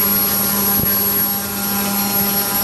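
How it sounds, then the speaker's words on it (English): The electric motor of a Super Chipmunk model plane runs steadily during an electronics test, a constant loud whine with a fixed tonal hum, unbroken and without voices. "The plane and the motor hasn't stopped from the beginning."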